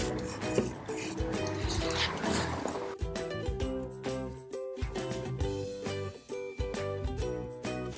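10W40 engine oil being poured into a Honda XL 350 R motorcycle, a steady close gurgling trickle and glugging from the bottle, continuous and fairly quiet.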